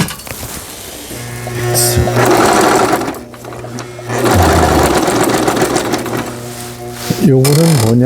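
A Brother VX1110 sewing machine under repair runs in several loud bursts close by, its motor and needle whirring between short pauses, while a person talks over and between the runs.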